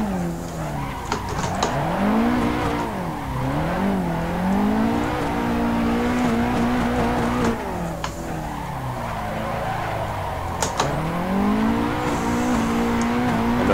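A Nissan 180SX drifting in Assetto Corsa, the engine revving and wailing through rising and falling pitch sweeps with continuous tire squeal and skidding, loud and sustained.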